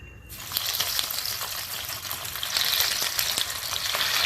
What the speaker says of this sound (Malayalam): അപ്പോൾ ഓരോന്നോരോന്നായിട്ട് ഫ്രൈ ചെയ്തെടുക്കാം കേട്ടോ.